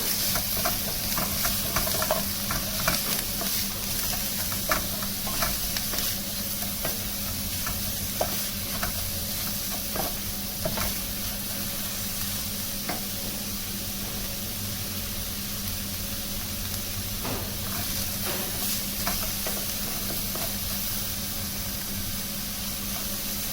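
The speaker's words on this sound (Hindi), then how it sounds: "हल्के ऑयल में इसको फ्राई करना है।" Capsicum frying in a little oil, a continuous soft hiss of sizzling with frequent light scrapes and taps of a spoon stirring it, close and steady throughout.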